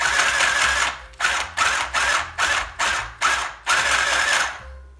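A RYOBI 18V battery-powered sewing machine runs in loud mechanical bursts, its needle mechanism whirring in about seven start-stop runs separated by short pauses, with no talking.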